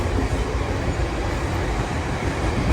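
A sugar cane train in South Florida rumbles and rattles from the open gap between its cars, a loud, continuous clatter of wheels and couplings heard up close with no talking.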